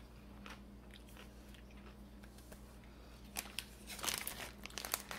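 A crunchy snack from Peru or Taiwan is chewed close up: quiet, steady munching swells into sharper, louder crunches near the end, with no talk.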